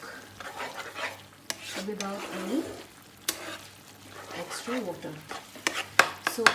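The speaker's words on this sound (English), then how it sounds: "So I'll be now again slow cooking this for another 5 minutes" Chicken curry sizzles and fries in a pan while a utensil stirs and scrapes, with occasional clinks of metal against the pan.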